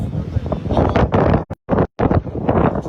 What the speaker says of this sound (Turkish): dağda aşırı şiddetli rüzgar var